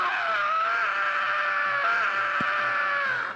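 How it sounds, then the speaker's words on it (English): A shrill, strained scream from the Jaguaro monster in the original Scooby-Doo cartoon, sounding like a man yelling. It holds one long, loud wavering cry for about three seconds, with a brief thump partway through. "I forgot the scream that the Jaguaro has. It just sounds like some guy screaming"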